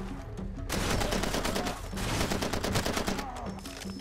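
Gunfire from the video game Far Cry 2 rattles in dense, rapid bursts, loud and sustained across most of the moment with brief gaps, no talk over it.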